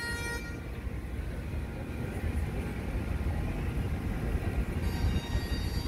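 A tram rolls past on a street in Edinburgh, its low rumble and rail noise building steadily as it nears, with a brief horn-like tone and street traffic in the background.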